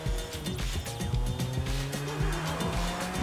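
Car driving in the video game Sleeping Dogs Definitive Edition, a slow stolen car with engine drone and repeated tire squeals and skids, loud and close with no talking.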